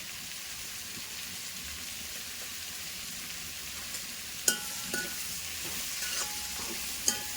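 Onions frying in oil with half a teaspoon of salt for a chicken curry, a steady soft hiss of sizzling with a few sharp spoon clicks against the pan near the end.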